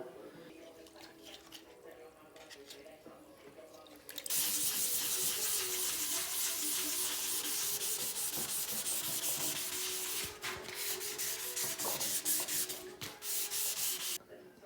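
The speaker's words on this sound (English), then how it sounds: "And now I want to sand the last bit with 2000 wet sandpaper." A Pinarello F10 bike frame being wet sanded by hand with 2000-grit sandpaper: a steady, loud rasping rub that keeps up continuously, with a few brief pauses and faint background noise.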